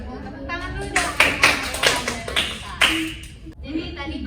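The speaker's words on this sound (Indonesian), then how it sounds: "Tepuk tangan dulu dong." Classmates clap their hands together after a class presentation in a classroom, a burst of dense, overlapping applause that swells and fades over several seconds with a few claps standing out, while a voice murmurs faintly underneath.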